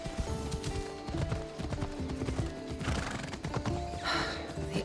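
Phobos the horse galloping in Assassin's Creed Odyssey, rapid clip-clop hoofbeats with whinnying layered over a continuous musical score, moderately loud and close throughout.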